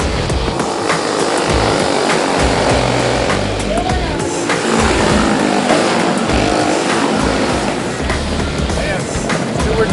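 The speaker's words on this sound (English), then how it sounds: "All you gotta do is just buy a go-kart and race." Go-kart engines race at a speedway, a constant loud buzzing roar that rises and falls as karts pass, heard without talk.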